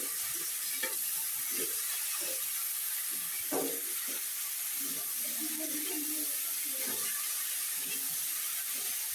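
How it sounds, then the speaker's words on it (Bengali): A spatula stirs a vegetable fry with green chilies in a pan, producing scattered scraping knocks over a quiet, steady sizzle. "এখন সব উপকরণ ভালোভাবে মিশিয়ে দিব"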